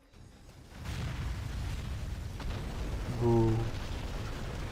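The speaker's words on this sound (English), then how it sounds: "There goes the carrier." A US aircraft carrier explodes in the strategy game Command and Conquer Generals, a deep rumbling blast and sustained roar with a brief tonal burst partway through, and a voice briefly exclaims.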